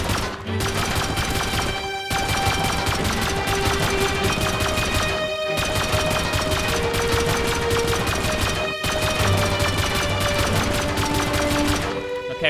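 Silenced gunfire with explosive ammo in the video game Rust: rapid, dense bursts of sharp cracks and pops in fast rhythm, loud and close, with brief pauses between long strings of shots.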